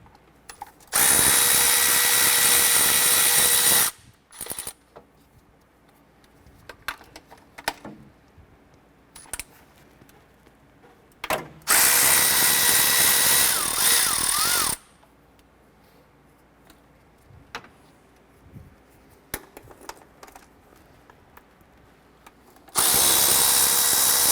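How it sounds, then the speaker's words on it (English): A power tool with a 12mm socket and extension spins out intake manifold bolts on a 2008-2012 Honda Accord, three loud, sustained whirring bursts separated by quiet stretches of clinks and handling noises. "Let's remove the bolts for the intake. We're using our 12mm socket and extension for this."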